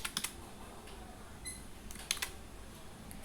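Text is typed on a smartphone screen as a handful of soft, faint taps, scattered irregularly over quiet background with no talking.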